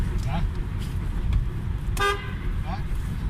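A car horn blares inside the Lowari Tunnel, one loud bright honk with short faint toots before and after, ringing over the steady rumble of traffic while someone talks.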